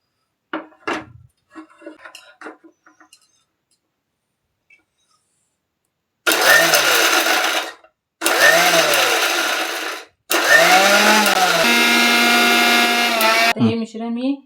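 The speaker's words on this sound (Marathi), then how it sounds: "आणि आता आपण हे मिक्सरला लावून वाटूया." An electric mixer grinder whirs loudly through three bursts, each a few seconds long, as it grinds roasted garlic into a coarse chutney mix, with short gaps between runs and brief kitchen clatter just before.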